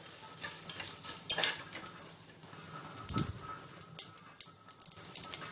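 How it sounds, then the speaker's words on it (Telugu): Garlic frying in a pan while making fried fenugreek dal (menthi pappu), giving a steady close sizzle with scraping stirs and a few sharper bursts. "ఈ వెల్లుల్లిపాయల్ని కాసేపు ఫ్రై చేసుకోవాలి"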